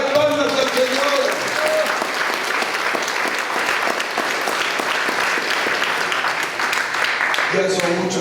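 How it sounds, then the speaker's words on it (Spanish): A church congregation claps steadily for several seconds, a dense, continuous burst of many hands, with voices heard at the start and end. "¡Denle palmas al Señor!"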